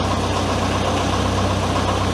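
The engine of a homemade mini loader idling steadily, a loud, close, even rumble with a low, regular pulse and no voices.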